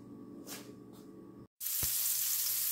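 Butter sizzling in a pan on the stove, a steady bright hiss that jumps in after a brief silence and holds loud and close, with a faint tonal hum beneath.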